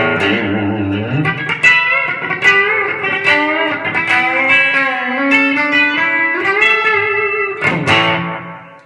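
Country twang electric guitar lick built from double stops and fast triplet runs with open strings and bends at the end, played solo and up close with steady loudness and no talking.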